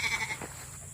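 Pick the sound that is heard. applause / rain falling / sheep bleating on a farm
sheep bleating on a farm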